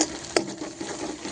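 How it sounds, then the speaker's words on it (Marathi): Spices such as red chilli powder, turmeric and asafoetida sauté in a hot pan, giving a low steady sizzle with a single sharp clink of a spoon against the pan near the start. "छान परतून घेऊया मसाले"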